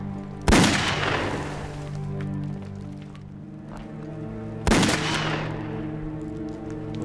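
Two sharp, loud gunshots ring out about four seconds apart in a war drama set during the anti-Japanese resistance, each cracking close and then fading with a ringing tail over a low musical drone.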